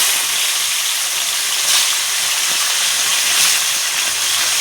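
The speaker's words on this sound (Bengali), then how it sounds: "তো এখন একে একে আমি মাছগুলো ভাজা করে নেব, সুন্দর করে লাল লাল করে মাছগুলো ভাজা করে নেব।" Bata fish fry in hot oil in a kadai, giving a loud, constant bright hiss that swells slightly at moments and never lets up.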